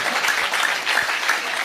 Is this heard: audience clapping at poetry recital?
yes